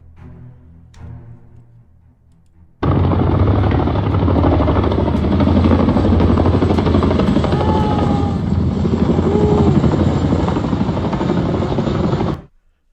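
After a brief quiet moment, a loud helicopter roars in close, its rotor and engine drone holding steady for several seconds before cutting off abruptly.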